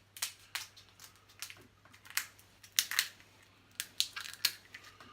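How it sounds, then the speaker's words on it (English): Scissors snip and crunch through a small crab claw shell at a seafood boil meal, a series of short, close, crisp cracks and clicks spaced irregularly with brief pauses between cuts. "I want to get all my meat out of this claw, so I'm going to open it with a scissors"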